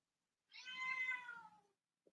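A single drawn-out cat meow, clear and fairly close, rising then fading over about a second, followed by a tiny faint click in otherwise quiet surroundings.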